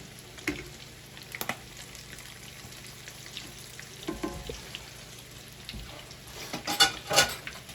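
Food fries in a deep cast iron frying pan, a quiet, steady sizzle broken by scattered pops and crackles, louder near the end.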